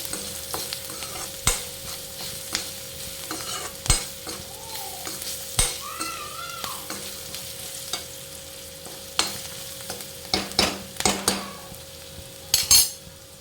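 Poha being stirred in a frying pan, with a spoon scraping and clinking against the metal in irregular strokes over a steady, quiet sizzle of hot oil.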